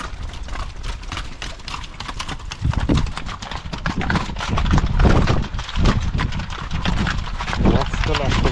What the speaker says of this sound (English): These are the Icelandic horses.